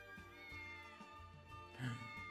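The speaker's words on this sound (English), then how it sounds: "Kitty cat!" A cat meows once near the end over steady background music, fairly faint and alone without talk.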